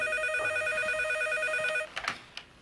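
A telephone rings with a steady electronic trill for almost two seconds, then cuts off and is followed by a few faint clicks and knocks as it is picked up.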